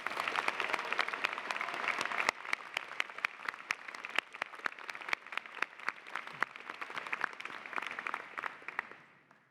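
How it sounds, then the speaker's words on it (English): Sustained applause from a large graduation convocation crowd, with dense steady clapping throughout and a few sharper individual claps standing out, fading slightly at the end. "Let's please give a huge round of applause for your families and friends who have supported you along the way."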